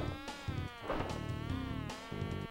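Buzzing bees in the PlayStation game Crash Bandicoot 2, a steady, harmonic-rich electronic drone that pulses with small swells, heard close and alone over faint game music.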